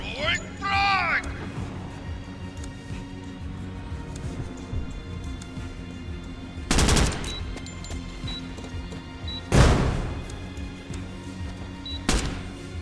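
A frag grenade bursts in the tactical shooter Door Kickers 2, a sharp, loud explosive crack about seven seconds in, followed by two similar blasts, over a steady game soundtrack and occasional voice.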